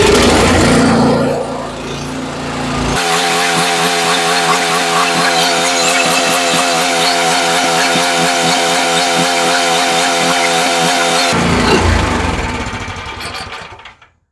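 A Cub Cadet snow blower engine fires up after a carburetor cleaning, a loud close buzzing small-engine rattle that runs steadily for about eight seconds before cutting out.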